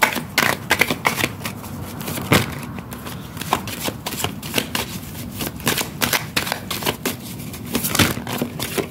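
A deck of oracle cards is shuffled and cut in a continuous flurry of crisp, close riffling and slapping clicks with no pauses.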